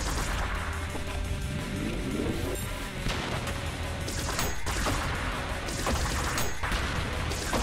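Heavy, nonstop weapon fire from a retro boomer shooter video game, loud rapid bursts and booming impacts piling up with crashes and no pauses.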